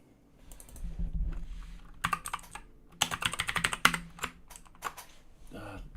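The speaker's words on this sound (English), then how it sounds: "Why did I type folder?" Computer keyboard typing during a web development session building an open source project management system, a quiet patter of keystrokes coming in short bursts and clusters, close and clear with pauses in between.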